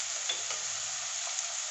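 Onion with ginger-garlic paste fries in a pan, giving a constant bright sizzle close up, with a few soft stirring scrapes on top.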